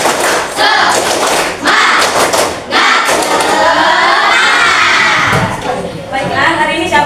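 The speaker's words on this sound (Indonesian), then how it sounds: "Tepuk semangat." Schoolchildren in a classroom doing the 'tepuk semangat' clapping chant, with loud sharp claps in bursts mixed with shouted, chanting young voices and some thumps, all close and lively.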